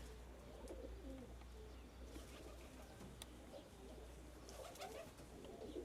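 Pigeons coo softly and steadily outdoors, with faint bird chirps and a few brief flutters scattered over a constant low background hum.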